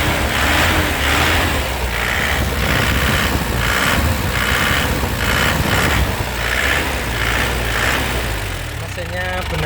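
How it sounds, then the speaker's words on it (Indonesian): A 2007 Toyota Grand Touring car engine idles and is revved in repeated short bursts, each swell of throttle rising and falling in a steady rhythm, loud and close. "Coba kita gas-gas ya."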